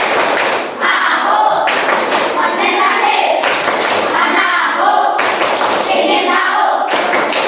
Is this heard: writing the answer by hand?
no